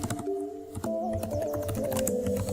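A computer keyboard typing code in Android Studio, a quick run of light keystrokes over a steady tonal background hum.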